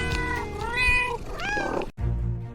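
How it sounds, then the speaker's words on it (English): A cat meowing in several drawn-out, wavering cries, close and clear, ending in a sharp cutoff followed by a low hum. "wait for it, it's the cat's meow"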